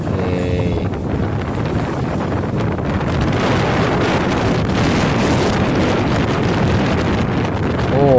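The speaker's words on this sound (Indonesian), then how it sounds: "Anginnya, guys, gede banget." Heavy wind buffeting a microphone outdoors in a Malaysian village, a loud continuous roar that stays steady throughout with no clear speech.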